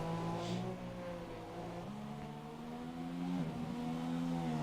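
A racing car engine in a GP2 racing game drones steadily with a rising and falling pitch, loud and continuous, alone without talk.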